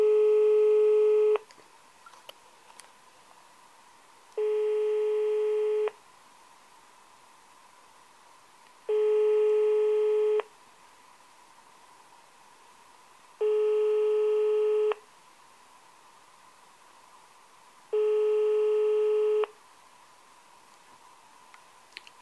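Busy tone on a telephone line while calling a doctor's office for an appointment in León, Spain. Five evenly spaced beeps each last about a second and a half, separated by three-second gaps over a faint background hum.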